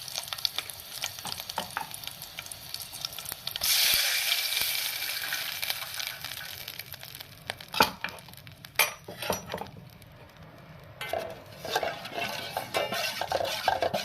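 Onions and green chillies frying in oil with steady stirring in a pan while cooking ragi kadhi, a broad sizzle with scraping and clinks of a spoon against the pan, louder for a stretch in the middle, no talking.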